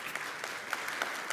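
Audience applause in a church service or sermon hall, a steady dense patter of clapping from a crowd filling the short moment alone, without speech over it.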